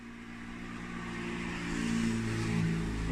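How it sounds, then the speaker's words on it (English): A car passing nearby outdoors, engine noise swelling steadily louder as it approaches, a low rumbling drone with no talking over it. "Car coming?"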